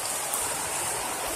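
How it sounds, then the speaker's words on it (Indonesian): Steady rain pouring in hilly countryside, heard from under a rickety shelter as a dense, loud hiss without pause. "Hujan."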